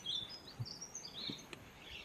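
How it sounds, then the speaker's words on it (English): Birds chirp and sing outdoors near a parked Audi Q2, with faint, high calls scattered through a couple of seconds over a low background hum. "leave the birds to continue their singing"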